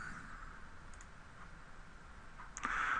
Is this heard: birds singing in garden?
no